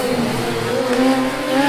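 Formula Student race cars at the Hockenheim circuit during an endurance event, engines droning steadily with rising and falling pitch, loud and close, with no talk.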